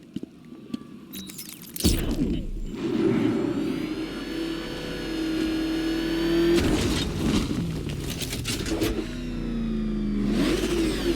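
Batmobile engine in Batman: Arkham Knight revving hard, a loud sustained roar that surges and falls in several bursts after a brief quiet opening, with whooshing acceleration swells.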